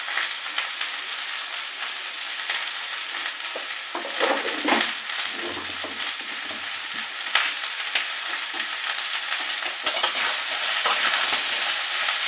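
Kochur loti (taro stolons) sautéing with salt and turmeric gives a steady, close sizzle and frying hiss, with occasional scrapes and knocks of the stirring spoon against the pan and no talking.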